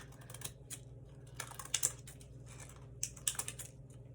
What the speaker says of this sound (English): I'm going to take my scissors again and just trim around the top